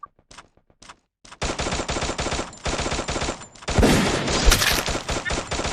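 Shotgun fire from an M1014 in the video game Free Fire: a few sparse shots, then a dense, loud barrage of rapid blasts that continues throughout, with no talking.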